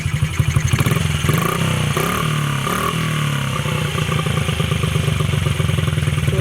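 A motorcycle-type engine on a pull tractor build, freshly cleaned and reassembled, runs steadily close by with a fast, even throbbing idle and light mechanical clatter, no voices.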